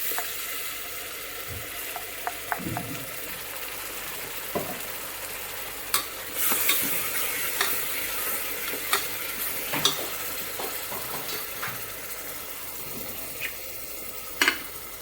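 Tomato paste stirred into a hot pan for tomato rice, a soft continuous sizzle under scattered scraping and clinking of a spoon against the pan, with no talk.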